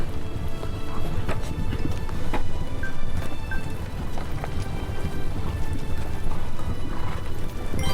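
A carriage pulled by a land dragon in a video game rolls along with steady, rapid clip-clop footfalls over a constant rumbling bed of wheels and ambience, loud and close throughout.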